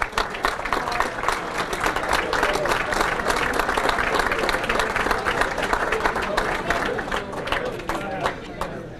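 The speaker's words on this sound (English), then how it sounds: "How about a big round of applause?" A banquet audience at a sports hall of fame dinner gives teachers and coaches a big round of applause, with loud, sustained clapping mixed with crowd murmur throughout.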